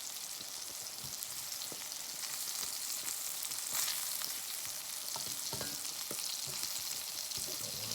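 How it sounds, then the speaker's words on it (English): Red onions grilling on a portable 9-inch Blackout camp stove, a soft continuous crackling sizzle with occasional light stirring scrapes, close but quiet, with no voices. "I love a grilled red onion."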